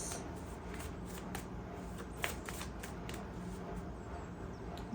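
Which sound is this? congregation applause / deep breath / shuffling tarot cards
shuffling tarot cards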